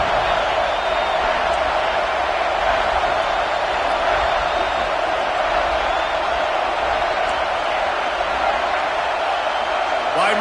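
Football stadium crowd roaring steadily on a big third down, a dense, loud, unbroken wall of cheering that holds at full volume from start to finish.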